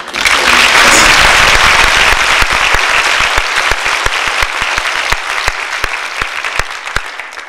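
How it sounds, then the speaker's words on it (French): A public audience at the Palais des Rencontres applauds as a mother steps up to address them, loud dense clapping that peaks early, then thins into scattered sharp individual claps as it tapers. "On peut l'applaudir"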